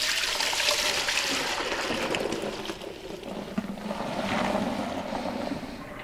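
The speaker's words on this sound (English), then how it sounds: "mix this up a little bit by pouring it back and forth from our bucket" Beer wort for a steam beer, a California common, is poured back and forth between a bucket and a boiling pot, giving a continuous sloshing, gushing stream of liquid close by, rising and falling without speech.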